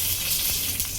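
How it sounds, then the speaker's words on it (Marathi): Coriander and cumin seeds sizzle in hot oil for chicken kharda, a bright continuous frying hiss, close and steady over the short moment without any talk. "आता आपण थोडं तेल घालणार आणि हे धने, हे जिरे,"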